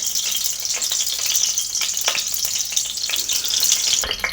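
Fenugreek seeds sizzle and crackle steadily in a little hot oil in a pan, a dense close frying hiss with occasional spoon stirs.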